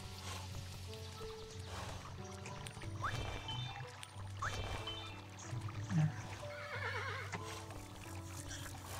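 Horse neighing in the video game Kingdom, a faint whinny heard around the middle over quiet game music and ambience.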